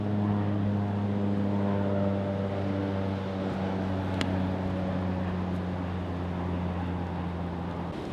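A low-flying propeller aircraft drones overhead, a steady low hum with strong engine harmonics that slowly fades as it passes, with no talking.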